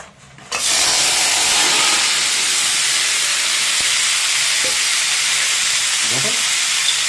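Crabs drop into hot oil in a pan and set off a loud, steady sizzle and hiss that runs without a break, with a few faint clinks under it.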